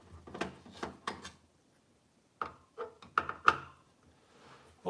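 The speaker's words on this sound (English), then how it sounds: "I think I'm gonna take the heatsink screws out first" Screws are removed from the heatsink on an Xbox 360 motherboard, heard as several faint, close ratcheting clicks from a screwdriver in short bursts separated by pauses.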